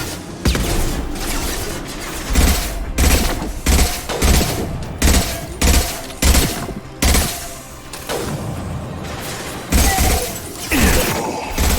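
Concussive Shot ability from Mass Effect 2 Legendary Edition firing amid dense game combat, a run of loud booming impacts and gunfire bursts recurring every half second or so over a steady rumbling battle bed.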